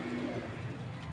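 A male Archangel Mosaldom pigeon coos softly and low, a quiet throaty murmur running through the short moment with no other sounds around it.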